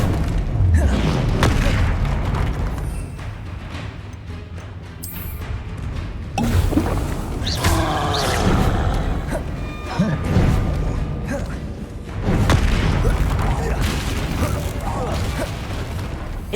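Spells fired at a troll in Hogwarts Legacy, Confringo among them: several deep booming blasts spread across the clip, a voice calling out spell names between them.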